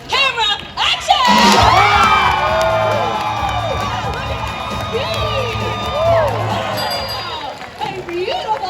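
Audience at a Universal Studios Hollywood dog show, cheering, whooping and clapping loudly as a dog races across the stage, with children's shouts mixed into the sustained crowd noise and voices heard throughout.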